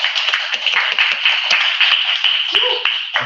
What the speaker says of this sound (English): Can we clap for the homie real quick?